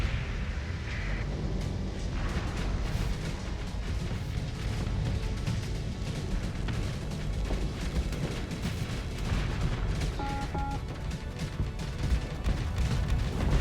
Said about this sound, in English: Missiles away. Every ship in the fleet was holding on to these missiles